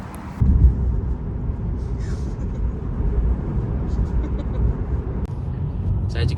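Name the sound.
Tesla Model 3 driving on the road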